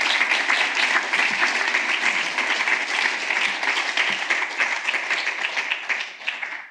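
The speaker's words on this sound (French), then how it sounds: "Je vous demande de les applaudir chaleureusement." Warm applause from a conference audience at an opening session, a dense steady burst of clapping that holds strongly before thinning and fading near the end.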